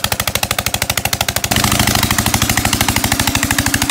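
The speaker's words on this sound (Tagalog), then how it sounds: "Irrigation system pala nila ito, binuksan lang." A loud greenhouse irrigation system machine in Saudi Arabia running with rapid, rhythmic pounding pulses, shifting to a heavier, denser chugging partway through, close and continuous.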